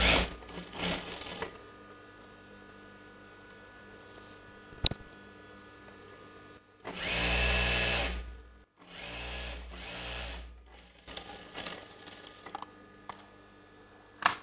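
Sewing machine stitching a patiala pant seam, two runs of steady whirring stitching about two and one and a half seconds long, close and fairly loud, separated by quiet handling and small clicks.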